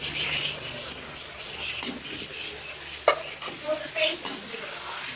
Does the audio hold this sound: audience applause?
no